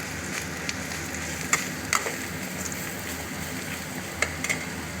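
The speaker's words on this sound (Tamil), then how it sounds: "அடுப்பு ஆஃப் பண்ணிவிட்டு கொஞ்ச நேரம் கிண்டிக்கலாம்" Okra tamarind curry is stirred in a pan on a switched-off stove, giving a soft continuous sizzle broken by a few sharp scrapes and clinks of the spoon.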